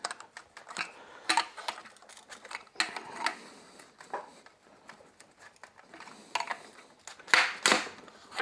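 A ratchet clicks in short irregular bursts on intake manifold bolts of a Moki 215cc engine, faint and close, with small metallic taps between the runs of clicks.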